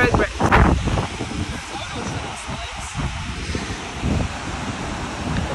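Strong wind at the seashore roars and buffets the microphone in a steady broadband rush, with faint voices barely audible beneath it.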